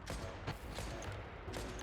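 Rapid gunfire rattles in a video game as the player's character is hit, a steady, fairly quiet stream of shots with a few sharper bursts.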